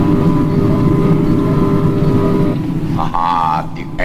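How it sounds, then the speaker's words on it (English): A loud, steady engine drone fills the clip, then shifts in pitch near the end as a voice briefly cuts in over it. "the engines are louder"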